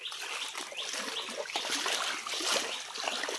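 Water across a flooded village pond rushes and splashes like a river, a continuous close wash of trickling and splattering with no pauses and no voices.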